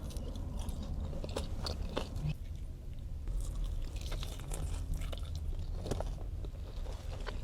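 Close, steady chewing and biting of Raising Cane's fries and chicken tenders, soft crunches and wet squishes repeating without pause.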